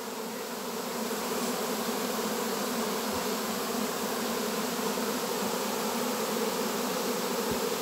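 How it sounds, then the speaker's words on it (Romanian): A swarm of honeybees buzzing around a beekeeper, a dense continuous hum from many insects at once, steady and close, filling the whole clip without talk. "Aceste albinuțe nu înțapă, ca să înțelegeți cei care vă e frică de roi."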